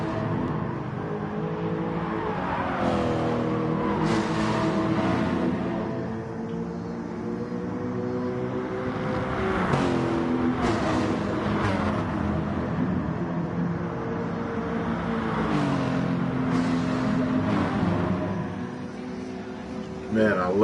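Race car engine in the GT Sport racing game at a first FIA online event, steady whirring drone with repeated rises and shifts as the car is pushed around the lap, loud and continuous under someone talking.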